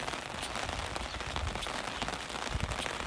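Rain falls outdoors near Carno as a dense, continuous patter with small crackling drops hitting close by.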